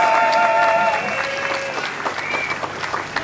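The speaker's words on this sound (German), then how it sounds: "Nochmal Applaus, bitte." Applause from a crowd at an outdoor climate demonstration against coal, dense clapping running steadily throughout with a voice talking over it near the start.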